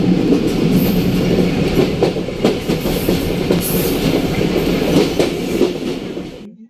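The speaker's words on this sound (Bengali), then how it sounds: "হালসা ছেড়ে দিল ট্রেন।" Passenger train pulling out of Halsha station in Bangladesh, a steady loud rumble of wheels with rhythmic clickety-clack of the carriages rolling over rail joints, continuous and close throughout.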